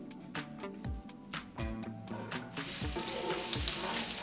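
Mild Italian sausage fries in a pan with a steady, close sizzle, broken by frequent sharp clinks and scrapes of a utensil against the pan throughout.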